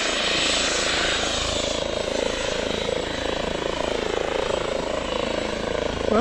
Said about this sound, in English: I've never seen a police helicopter on the summit of Glyder Fach before.